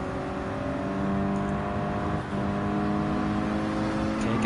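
A racing car engine in Gran Turismo 7 drones at a steady high pitch while overtaking a 2022 Honda Civic Type R, with a brief dip and then sustained loud revving, and no talking over it.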